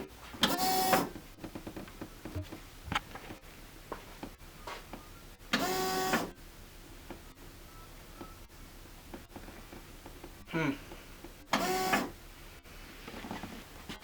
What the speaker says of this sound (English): The starter's trying to start it